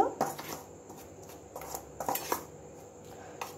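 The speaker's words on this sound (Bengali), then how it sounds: "উপকরণগুলো আমি ভালোভাবে মিশিয়ে নেব।" Dry snack ingredients for a taro (kochu) snack being tossed with salt and black pepper powder in a bowl: soft, quiet scraping and light clinking of a spoon against the bowl in scattered strokes, close and faint.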